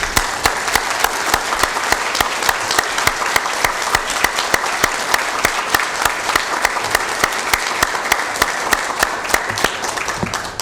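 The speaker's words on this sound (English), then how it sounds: "give them a big round of applause" An audience applauds master gardeners at a county Board of Supervisors meeting, sustained, even clapping from many hands that carries on for the whole stretch at a steady level, close and without talk.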